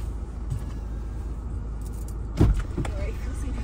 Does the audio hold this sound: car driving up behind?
yes